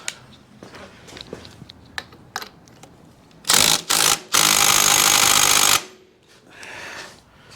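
A 1975 Yamaha 250B motocross two-stroke engine fires in short loud bursts, sputtering twice before catching and running hard for about two seconds, then cutting off abruptly into quiet mechanical rattles.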